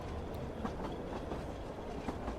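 Train running on rails, heard from inside a passenger car as a steady low rumble with faint rhythmic wheel clatter, quiet and continuous.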